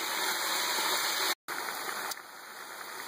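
Pork ribs deep frying in hot oil give a steady, loud, bubbling sizzle like rushing water, close up, broken by one brief silent gap midway.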